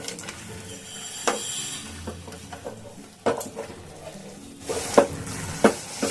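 A spoon stirs peanuts into a pan mixture with the heat off, giving scattered scraping and clinking against the pan, with a few sharper knocks toward the end, close and fairly quiet.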